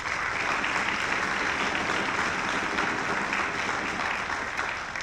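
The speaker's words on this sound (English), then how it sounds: "Please give yourselves a round of applause." Concert audience of a youth symphony orchestra applauds in a thick, steady roar of clapping that fills the hall at full volume throughout.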